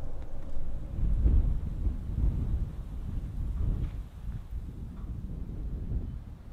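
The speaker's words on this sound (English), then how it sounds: "overcast, and a bit windy out." Wind gusts over open outdoor ground on an overcast, drizzly day, making a steady low rumble that buffets the microphone close up, with no voices.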